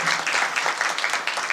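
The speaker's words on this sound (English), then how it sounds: "Clap it up for the Tournament of Roses." Crowd applause for the Tournament of Roses at a town council meeting, a dense steady patter of many hands clapping throughout the short stretch.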